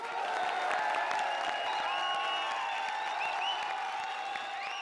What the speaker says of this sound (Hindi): जोरदार तालियों से स्वागत कीजिए आज की हमारी वाइल्ड कार्ड एंट्री कार्ड।